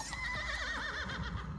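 A horse whinnies loudly in The Life and Suffering of Sir Brante video game, a long wavering neigh running through the whole moment with faint hoof clatter beneath it.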